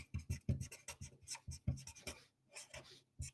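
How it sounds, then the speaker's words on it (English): Pen scratching on paper during a lecture, a series of quick, close strokes and taps in irregular bursts with brief pauses, quiet and alone. "let me just write here"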